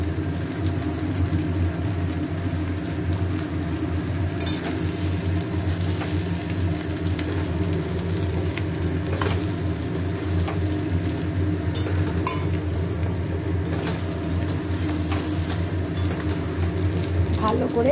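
Rice frying in a pan with salt added, a steady dense sizzle running throughout with scraping stirs on top, close and fairly loud, alongside a low rumble underneath.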